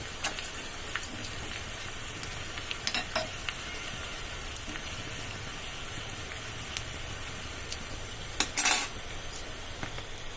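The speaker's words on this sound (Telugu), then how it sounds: "ఇట్లా మంచిగా వేగుతుంది చూడండి." Oil sizzles steadily as dried chilies fry in a tempering in a pan, with occasional clinks of a utensil stirring.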